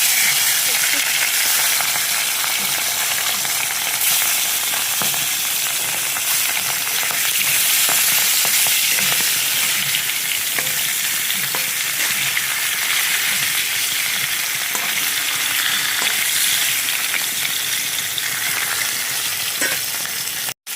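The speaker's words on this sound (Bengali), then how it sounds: "মাছটা ভালো করে ধুয়ে নিয়ে এসেছি, লবণ আর হলুদ মাখিয়ে ভেজে নিই" Fish and a fish head rubbed with salt and turmeric fry in hot oil, a loud, dense sizzle and hiss that continues without a break for about twenty seconds, close and with no voices.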